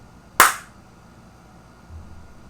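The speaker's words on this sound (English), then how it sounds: "Here, I'll clap." One sharp, close hand clap cracks out early and decays quickly into a quiet room with faint low hum.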